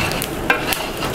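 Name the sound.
stirring chicken masala gravy in a large pot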